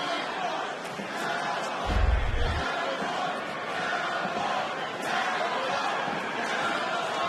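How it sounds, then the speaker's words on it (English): A UFC arena crowd chants "Cowboy" for 36-year-old Cerrone during the third round of a five-round fight against Al Iaquinta, a constant roar of massed voices rising and falling beneath a commentator's talk. "Cowboy chants from the crowd"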